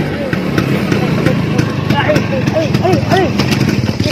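An idling motorcycle engine putters steadily and close by while people talk over it.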